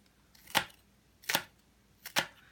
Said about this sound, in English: So now I'm going to cut the onion.